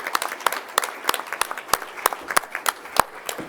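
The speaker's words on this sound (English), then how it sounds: "Can we get one more round of applause for these involved parents?" Scattered applause for parents at a school board meeting, a small group clapping at a moderate distance with sharp individual claps standing out irregularly.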